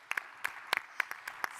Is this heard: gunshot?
no